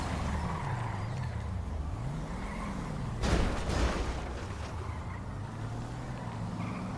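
Car driving in the video game GTA V, a steady engine drone with gliding pitch changes as it accelerates and eases off, plus a brief louder rush midway, continuous and close.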